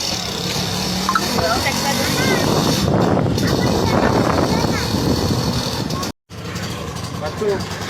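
Steady engine drone and road rumble from inside a moving auto rickshaw, loud and continuous, with a brief dropout near the end.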